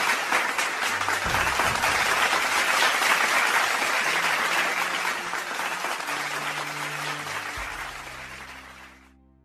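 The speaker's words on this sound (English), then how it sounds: "join me in offering a round of applause to the class of 2020" Sustained applause from an audience at a university conferring ceremony for a graduating class, a dense, even wash of clapping that holds steady and then slowly fades out, with faint background music underneath.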